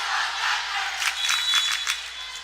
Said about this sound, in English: You can hear the Ripon crowd in the background, the Ripon student section. They are loud tonight.